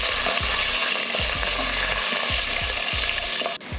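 About 100 g of shallots frying in hot oil with mustard seeds and curry leaves for sambar rice: a loud, steady sizzle with a regular rhythm of spoon scrapes as they are stirred.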